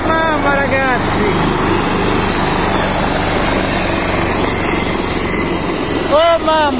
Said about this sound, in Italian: Oh mamma, anche l'elicottero!